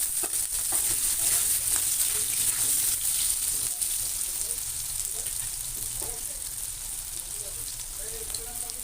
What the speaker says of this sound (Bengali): এবার ওই তেলের মধ্যে আমি আলুটা ভেজে নেব।